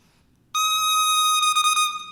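A bare oboe double reed made of two thin cane blades tied together, blown alone: a loud, steady, buzzy squawk that starts abruptly, holds, and wavers briefly near the end.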